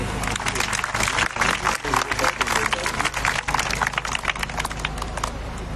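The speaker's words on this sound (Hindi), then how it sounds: "तालियां रुकनी नहीं चाहिए।" Continuous audience applause fills a hall at a ceremony in Gandhi Nagar, Jammu, dense steady clapping throughout with crowd noise mixed in.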